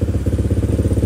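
A Honda Click 125 scooter with 16,000 on the odometer idles after a cold start, a steady, quiet mid-pitched engine hum with an even, rapid pulsing rhythm, close and alone.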